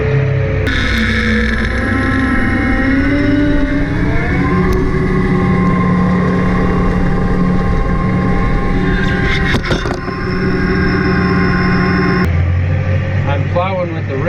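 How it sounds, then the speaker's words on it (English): A farm tractor in third gear throttles up while plowing with a ripper, and its engine drones loudly and steadily, shifting in pitch as it strains under load. Wheel spin and rattles break through near the end. "Okay, I got it in third gear. I'll just kind of idle up to it and hit throttle."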